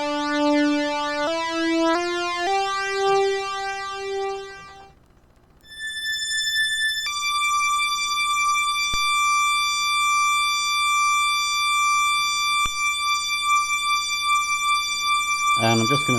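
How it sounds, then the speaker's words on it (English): A one-chip synthesizer's basic oscillator block plays notes climbing into higher registers, then holds long, bright, piercing sustained tones, steady and loud with no talking. "Let's just hear it in the higher registers."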